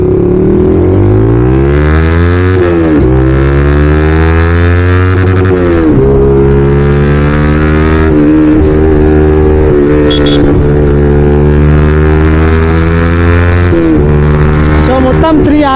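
Yamaha R15 motorcycles with a code 6 pops-and-bangs tune cruise along a road, engines loud and close with steady rising and falling revs and repeated gear-change dips throughout.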